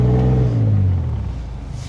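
A brand new truck stuck in soft sand on a beach, its engine revving hard and loud up close and then easing off into a falling, rumbling idle.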